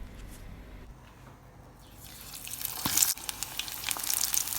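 Spinach pakora batter sizzling in hot oil, a soft crackle that swells louder and busier in the second half as spoonfuls go in, with a few sharper pops.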